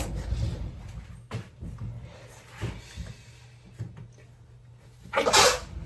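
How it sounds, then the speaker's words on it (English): A single sharp sneeze bursts out near the end, following several seconds of quiet shuffling and soft handling noises. "I'm going to sneeze again"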